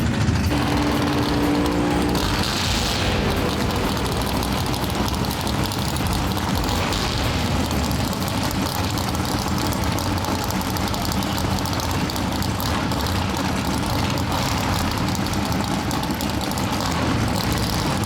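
Drag racing car on the track at a drag racing meet, a loud, dense, continuous engine roar that fills the scene without pause, with no clear gear changes.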